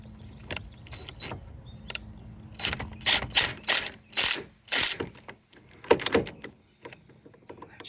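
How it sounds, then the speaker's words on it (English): Ratchet driving a bolt down into the bore of a SeaStar steering bracket, giving close metallic clicking bursts and short ratcheting runs with brief pauses between strokes. "we're going to drive the drive bolt right down into the bore on this bracket"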